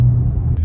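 A 2014 Maserati Ghibli Q4 in sport mode drives along with a loud, steady low engine and road rumble from inside the cabin, unbroken and without talking.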